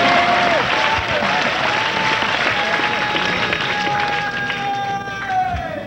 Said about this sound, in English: Let's have a round of applause for the guitars and voices.